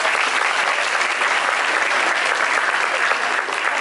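Steady applause from a graduation audience at a technical high school ceremony, dense and even throughout the whole stretch with no voices over it.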